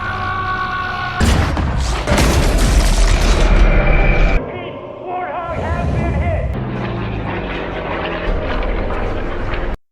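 A bomb released from an aircraft detonates in a war film, a loud, sustained blast of roaring, rumbling noise that swells then eases into a churning, lower aftermath with a fresh surge near the end.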